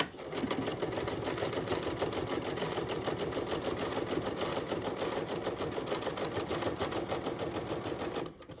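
Embroidery sewing machine stitching a notepad holder runs in a fast, steady rattling hum for about eight seconds before stopping abruptly, with no talking.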